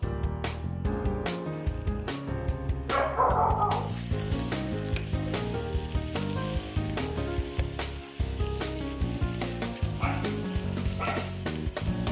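Potato pieces dropped into a hot pan with sautéed garlic and onion for a red beef soup, loud sizzling and crackling frying with stirring clatter throughout, no speech.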